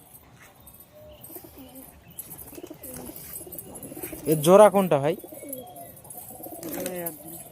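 Captured Mehedi pigeons with clipped wings cooing: a few soft throaty coos, then a louder rolling burst in the middle and another toward the end, with someone speaking briefly alongside.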